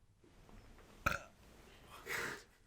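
A short, faint burp in a quiet room, followed by a soft second belch-like sound.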